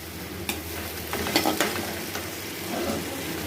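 Tomato crushed by hand into a frying spice paste for a jackfruit and prawn curry, a soft steady sizzle with a few squishy, clattering handling sounds near the pan.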